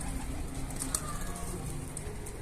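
Pigeons coo softly and flutter around mixed corn feed outdoors, with a steady low background murmur and faint wingbeats throughout.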